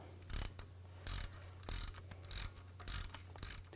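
Ratchet with an 8mm socket backing out a wheel speed (ABS) sensor bolt on a 2013-19 Ford Police Interceptor front hub, five or six quick close clicking bursts in a steady rhythm, no talk.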